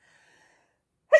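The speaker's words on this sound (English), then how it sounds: "So I sneeze again." A person sneezes once, abruptly and loudly, close by. The sneeze comes near the end after a stretch of near silence.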